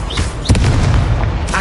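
A fiery Incendio spell blasts in a wizard video game, a loud booming burst that swells around the half-second mark and sustains a rumbling roar through the short clip.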